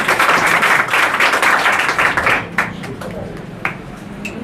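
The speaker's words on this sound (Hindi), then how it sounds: "चलिए जोरदार एक बार ताली हो जाए।" Audience at a Class 10 and 12 student award ceremony claps loudly and continuously for about two and a half seconds, then the applause thins to a few scattered claps amid a murmuring crowd.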